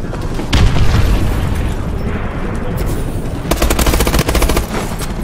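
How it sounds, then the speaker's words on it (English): Missile strike explosions and heavy gunfire in Call of Duty Advanced Warfare team deathmatch, a loud, dense barrage of booms and rapid bursts crowding together up close. "Friendly missile strike inbound."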